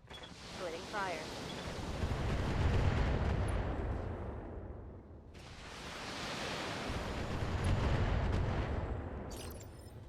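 Two long, roaring volleys of BattleTech mech weapons fire swell and fade one after another, a broad rushing barrage with a sharp onset partway through.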